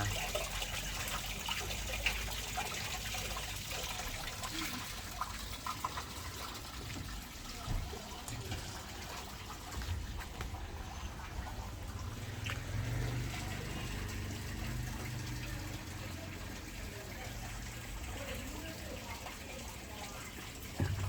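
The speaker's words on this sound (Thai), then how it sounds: "ปล่อยน้ ำนี่ครับ มีการดึงแล้วก็น้ำไหลออกมา" Water draining out of a Samsung washing machine's tub, a continuous faint trickling and gurgling flow that stays steady throughout, with no voices.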